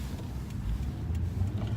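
A car driving along the road, heard from inside as a steady low rumble of engine and tyre noise with no talking.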